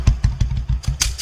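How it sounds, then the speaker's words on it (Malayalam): A motorcycle engine pulses in a steady series of low, rough bursts, close and fairly loud, as the bike slows and pulls over to the roadside. "അതുകൊണ്ട് സാർ ബൈക്ക് ഒതുക്ക്, ബൈക്ക് ഒതുക്ക്."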